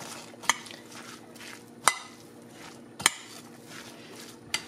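Sauerkraut salad with salt, pepper and sugar being mixed in a bowl, a soft moist churning broken by four sharp clinks of a utensil striking the bowl at irregular intervals, close by, with no voices.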